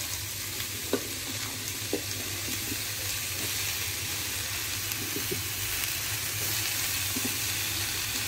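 Pumpkin and eggplant fry in a pan with a steady, dense hiss of sizzling oil and a low hum throughout, punctuated by occasional faint stirring taps.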